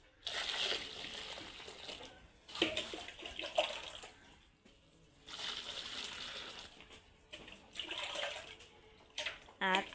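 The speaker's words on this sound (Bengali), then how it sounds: "এখন আমি দিয়ে দিব গরম পানি।" Hot water poured into a cow's feed mixture of soaked oil cake and molasses, giving bursts of splashing and running water with short pauses between pours, close by.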